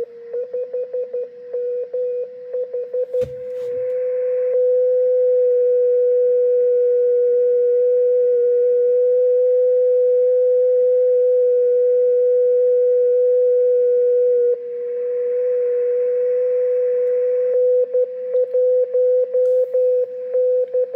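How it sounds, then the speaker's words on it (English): A 10 GHz amateur radio beacon keys Morse code as a steady tone; the carrier stays audible between the keyed elements because of leakage from the unkeyed stages, making a long, almost continuous tone with brief interruptions at the start and end. "you can hear the signal in between the Morse code elements when you shouldn't be"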